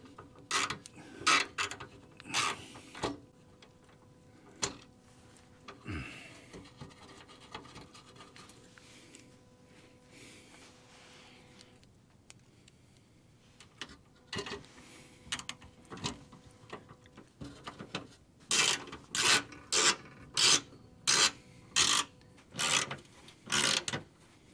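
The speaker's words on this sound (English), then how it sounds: "we're screwing into those thin metal grommets" Close, irregular bursts of ratcheting and rasping clicks as 8mm trim bolts are screwed into thin metal grommets on the underside of a BMW F30, with quieter pauses between bursts and a fast run of clicks near the end; no talking.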